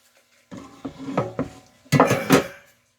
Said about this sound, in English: Let's get this into a pan.